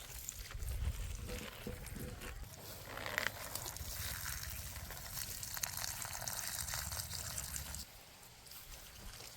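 Tap water runs onto guava saplings in a quiet, steady trickle and splash, with slight variations in the flow, fading softer near the end.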